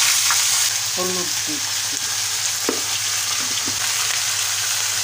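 Snake gourd frying in hot oil with cumin and dried red chilli tempering, a steady broadband sizzle throughout with a few stirring clinks and a brief voice speaking over it.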